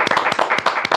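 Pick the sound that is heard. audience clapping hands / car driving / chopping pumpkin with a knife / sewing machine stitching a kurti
audience clapping hands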